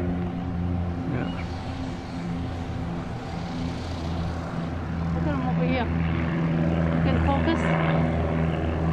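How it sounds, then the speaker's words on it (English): A propeller plane taking off at New Bedford Airport drones loudly nearby, its engine steady and slowly building in power, while people talk over the noise. "Plane taking off."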